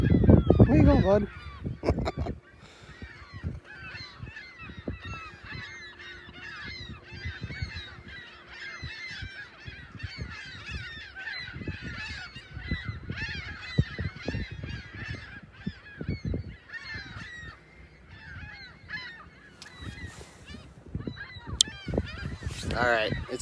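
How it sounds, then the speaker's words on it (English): Geese and other waterfowl honk and call in a steady, overlapping chorus on the water in the morning, close and fairly loud throughout, with a brief voice near the start. "Quack, quack. Quack,"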